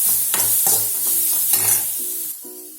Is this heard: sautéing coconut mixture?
yes